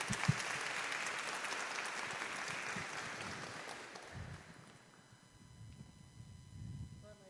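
A crowd applauds steadily for several seconds, then the clapping fades out, leaving a quieter room with faint low rumbles and movement.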